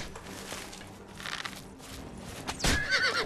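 A horse in the video game Oblivion gives a loud, shrill whinny near the end, after a stretch of rustling movement and hoof noise.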